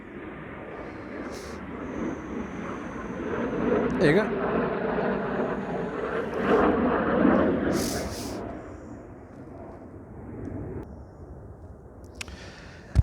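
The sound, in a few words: airplane flying overhead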